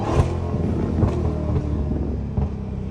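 The engine of a Dodge Hellcat gives a low, steady rumble from inside the car, with a few short blips as it downshifts and a muffled roar throughout.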